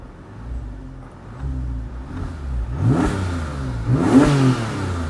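A Porsche engine fitted with a lightweight flywheel revs sharply twice, each burst climbing quickly in pitch and dropping back to a rumbling idle between revs.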